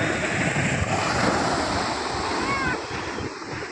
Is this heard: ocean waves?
yes